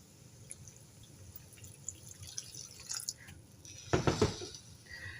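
A brief splash of water poured into a cooking pan with tomato, loudest around four seconds, over soft background dripping and faint kitchen clatter.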